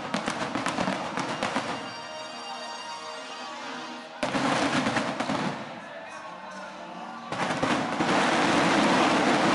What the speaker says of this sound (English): There goes Star Wars Firework.